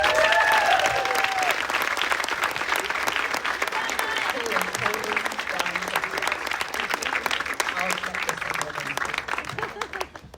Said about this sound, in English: So another round of applause for Dr. Bevan